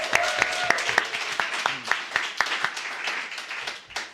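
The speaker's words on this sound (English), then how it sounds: "So congratulations and a round of applause for LIGANOVA." Audience claps for a company's 30th birthday. A thin spread of individual hand claps lands in a loose, uneven rhythm over a faint hiss and fades toward the end.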